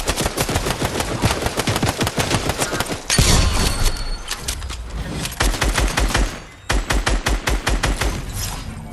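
Fortnite attack assault rifle gunfire: rapid bursts of sharp, evenly spaced shots, loud and close. One long burst is followed by a brief pause, then more rattling volleys, with a short gap near the end before firing resumes.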